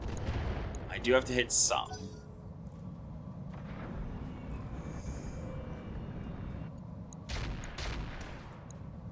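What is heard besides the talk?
weapons firing in a video game (RTCR)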